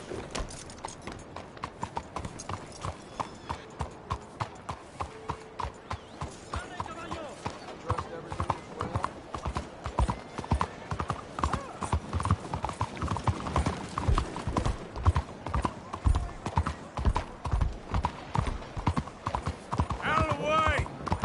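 Horse hooves clip-clopping through town streets in the video game Red Dead Redemption 2, a loud, close, steady riding rhythm that continues throughout with a few background voices.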